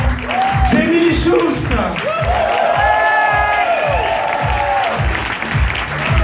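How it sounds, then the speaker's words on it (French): A club audience applauds warmly after a cabaret guitar act, loud clapping mixed with cheers and whoops while a host talks over the crowd through a microphone. "On peut applaudir très chaleureusement"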